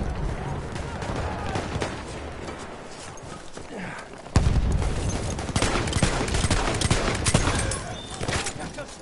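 Battlefield 1 combat with Sjogren Inertial shotgun fire: rapid overlapping shots and distant gunfire crackle, with a sudden louder burst midway and a voice talking over it.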